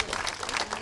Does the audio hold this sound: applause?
yes